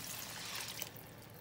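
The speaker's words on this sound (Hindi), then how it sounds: "अब मैं इसमें पानी डालूंगी" Water pours steadily into a pot of chickpea curry with a soft, splashing hiss, faint and continuous throughout.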